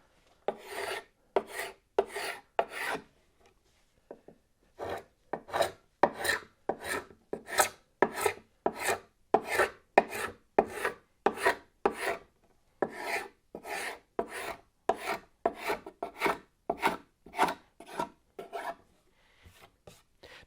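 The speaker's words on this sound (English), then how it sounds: "you just run along that seam and just scrape that off just like that" Scraper run along a glued wood seam to remove semi-cured wood glue, giving a rapid series of dry rasping strokes, close and steady with short pauses between runs, no speech.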